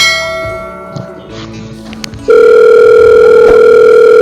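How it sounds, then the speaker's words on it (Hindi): Faint handling clicks and soft taps, then a loud steady telephone dial tone starts abruptly and continues without pause. "बहादुर फोन लगाई यार"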